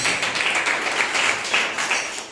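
A congregation at a Sunday morning church service claps together, a steady wash of many hands with faint rhythmic swells, moderately loud and unbroken for the whole stretch.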